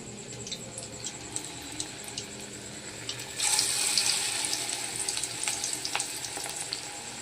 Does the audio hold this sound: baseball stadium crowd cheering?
no